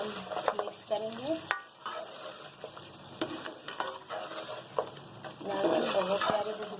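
Dumba karahi being mixed with sliced ginger and green chillies, a sizzling wok with repeated spoon scrapes and clanks, while a voice speaks intermittently over it.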